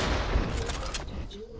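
Shotgun fire rings out in the video game Fortnite as a quick burst of loud, sharp blasts that trails off into voices from the players.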